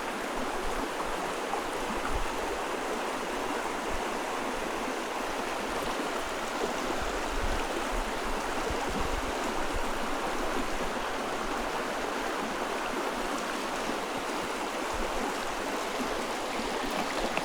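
A small New Hampshire brook trout stream flows steadily through turbulent water, a constant close rushing wash with no talk.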